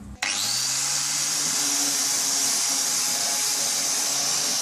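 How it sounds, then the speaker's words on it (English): A loud, steady power-tool whine starts abruptly and keeps grinding as a wire brush cleans metal before TIG welding, with no voices. "I'm going to try to clean up using a wire brush."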